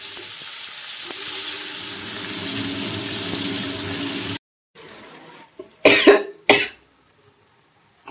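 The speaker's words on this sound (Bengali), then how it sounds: "এত কাশি হচ্ছে" A cook in a kitchen coughs in a few harsh, close bursts after steady pan sizzling of frying onion and tomato suddenly cuts out, leaving short quiet gaps between the coughs.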